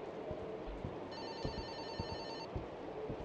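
A telephone rings inside the horror video game Fobia, a steady electronic trill held for over a second amid low rumbling ambience and scattered thumps.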